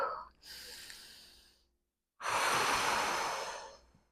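A woman breathes deeply while holding a lower-body wall exercise, with a long exhale, a brief pause, then a loud forceful breath close to the microphone.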